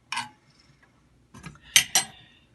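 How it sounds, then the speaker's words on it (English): A spoon stirs sugar in a container, giving a few short clinks and scrapes, close and clear, spaced unevenly over a couple of seconds with quiet gaps between. "Okay, so I've got the sugar, which I'm just going to stir around a little bit."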